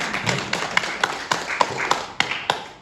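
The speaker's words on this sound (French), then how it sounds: "Faites un tonnerre d'applaudissements pour le doyen." Rhythmic clapping for a dean at a conference, about a dozen distinct hand claps in a steady beat over a faint room background, fairly close and clear.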